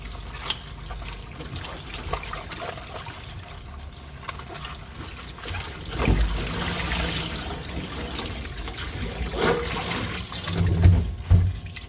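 Chinese cabbage being rinsed under a running kitchen tap for kimchi, a steady splashing water stream throughout with louder gushes and handling near the end, no talking.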